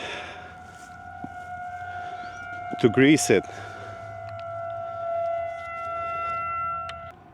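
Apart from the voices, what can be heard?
outdoor warning sirens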